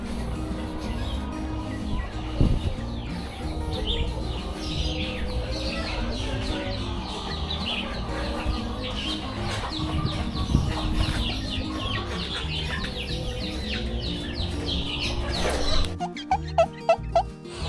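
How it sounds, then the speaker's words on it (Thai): Chickens and newly hatched chicks cluck and peep continuously, a busy mix of soft clucks and high chirps close by, with a burst of sharper clicking knocks near the end. "วันนี้มีลูกไก่เกิดมาเพิ่มอีกหนึ่งชุดนะ"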